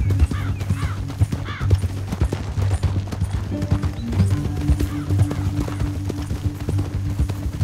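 Horse hooves in Red Dead Redemption 2, a steady clip-clop of trotting at moderate distance with a brief whinny near the start, over a low rumbling game ambience.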